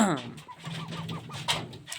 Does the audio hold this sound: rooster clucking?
yes